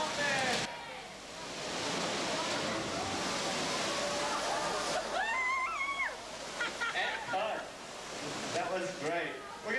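A 400-gallon water dump pours and splashes loudly over a pilot house in a Florida storm show, then subsides into a softer spatter as people talk and exclaim over it.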